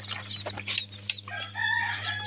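Native and farm chickens at a hatchery in Faridpur with day-old chicks give loud clucks and short crowing calls over a constant electrical hum.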